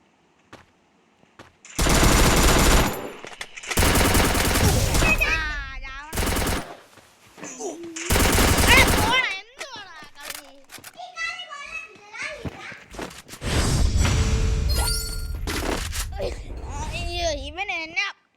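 Gunfire in the mobile battle royale game Free Fire, several loud bursts of automatic fire in quick succession, mixed with children talking and excited game chatter throughout.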